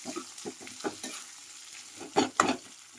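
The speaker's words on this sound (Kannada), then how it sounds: "ಉಳ್ಳಾಗಡ್ಡಿ ಮೆಣಸಿನಕಾಯಿ ಕರಿಬೇವು ಎಲ್ಲ ಹಾಕಿ ಉಳ್ಳಾಗಡ್ಡಿ ಚಲೋಟಂಗೆ ಫ್ರೈ ಆಗ್ಬೇಕು" Onions, chilies and curry leaves fry in a pan for a dry potato palya while a spoon stirs them. Soft scrapes and clatters come in short, uneven bursts over a quiet sizzle, with two louder scrapes near the end.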